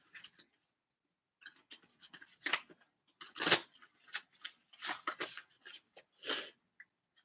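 Soft papery riffling and flicking of tarot cards being shuffled in quick bursts, close and quiet, with short pauses between shuffles.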